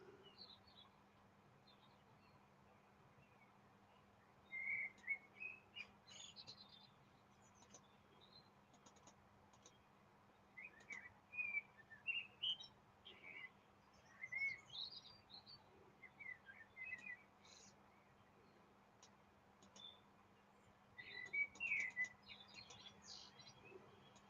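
Birds chirp outdoors in short, bright bursts scattered over a quiet steady background hum, some calls near and clear, others fainter, with gaps of near silence between flurries.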